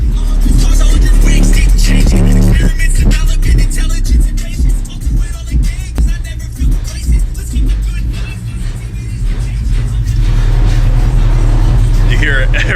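Engine of a single cab pickup truck running and revving steadily, loud and close, with the body rattling and shaking throughout while someone talks over it.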